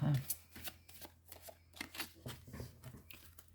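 A deck of tarot cards is shuffled and cut in crisp riffling bursts, repeated slaps and flutters close by, with a voice speaking faintly in between.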